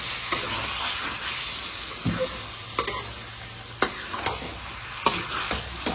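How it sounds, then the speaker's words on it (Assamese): Chicken pieces fry in a pan over a low gas flame for a chicken curry, a steady close sizzle broken by repeated scraping clicks of a stirring spoon. "মাংসখিনি দি ভাজি আছোঁ"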